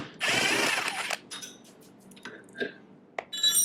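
Wrench work on crash bar bolts of a 2023 Kawasaki KLR 650: a loud burst of metallic ratcheting up front, then scattered clinks and short tool clicks, close and without talk.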